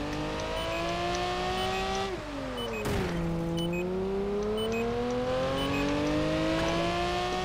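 A Lamborghini Murcielago in Project Gotham Racing 4 holds a loud, smooth engine whine, dips sharply on a gear change, then climbs steadily as it accelerates. No one speaks.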